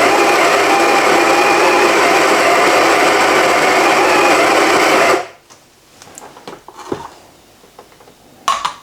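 Electric coffee grinder grinding coffee beans for about five seconds, a loud, steady high whir that stops abruptly, followed by quiet taps and clinks.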